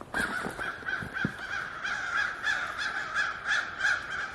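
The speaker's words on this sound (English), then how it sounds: "The crows are trying to scare him away." Crows caw repeatedly in a winter forest while mobbing a barred owl, a run of harsh, evenly spaced calls at mid distance with no voices.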